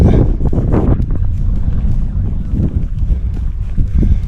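Strong, cold wind buffets the microphone in heavy, rumbling gusts in the inner Aegean region of Turkey around Gördes and Demirci, a constant low roar with brief surges throughout.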